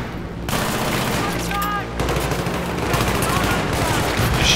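Rapid bursts of gunfire in the Battlefield 3 campaign mission Operation Guillotine, loud and close, with a brief whistling sound midway and voices speaking over the shooting.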